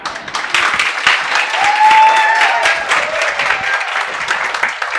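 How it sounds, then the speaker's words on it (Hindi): Applause from an audience welcoming a guest onto a show, a loud, continuous crowd of clapping hands that stays full and even throughout, with a few faint voices mixed in. "लेडीज एंड जेंटलमैन, एक बार ताली बजा दो"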